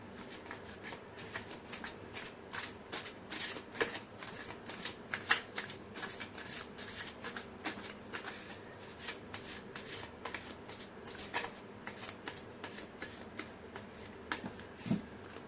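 A deck of tarot cards is shuffled over and over at close range, giving a steady rapid riffle of crisp slaps and flicks that runs the whole time without speech.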